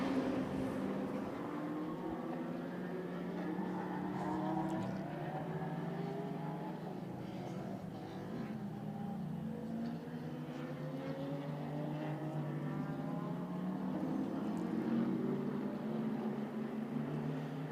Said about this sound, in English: cars still going around in this final 1 hour practice session ahead of qualifying